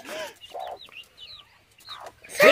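A hen clucks near newly hatched chicks in a garden coop, giving a few close, loud clucks and short cackles separated by brief quiet gaps, with a sharper burst at the end.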